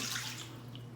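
Hot tap water pouring from a kitchen faucet into a mixing bowl, a brief, soft, steady rushing splash.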